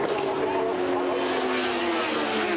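Honda race team motorcycles circle the track at pace, a continuous loud engine whine with shifting pitch filling the scene under steady commentary.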